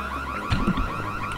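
An alarm goes off in the stealth video game Splinter Cell Chaos Theory, a loud, steady, electronic siren-like tone with a brief rising swell partway through, playing alone without speech.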